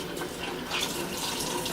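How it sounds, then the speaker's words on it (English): Tap water runs steadily at a bathroom sink as a makeup sponge is wetted under the stream, a soft close hiss and trickle with no talking. "get it wet and squeeze some water into it,"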